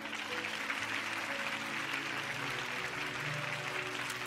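Sustained audience applause fills a studio hall at a health talk show, fairly quiet and even throughout, with a low steady hum and faint tonal sounds underneath.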